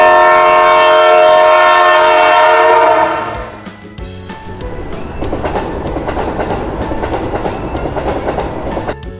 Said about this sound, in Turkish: Trenler giderken nasıl ses çıkartır?